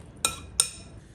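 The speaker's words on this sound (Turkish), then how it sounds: "Güzel bir şekilde harmanlayalım." A spoon clinks twice against a bowl while okra fritter batter is blended after milk is added, two quick, faint metallic taps in a quiet kitchen.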